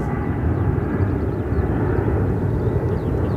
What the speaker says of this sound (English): It is an ATR coming in.